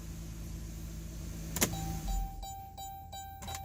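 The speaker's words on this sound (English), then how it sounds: "Car starting." A 2018 Dodge Grand Caravan starts up, with a short starter crank and click followed by a steady low idle, faint and heard from inside the vehicle with a few small clicks.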